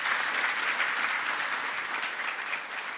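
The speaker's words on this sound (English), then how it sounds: "Big round of applause to all of the chaps on the panel." Sustained applause from an audience thanking a game-discussion panel, a dense continuous clatter of many hands at steady loudness throughout.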